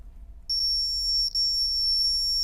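Small electronic buzzer run from a 3-volt battery giving a shrill, steady high-pitched tone that starts abruptly, breaks off briefly once, then carries on unbroken, close and fairly loud.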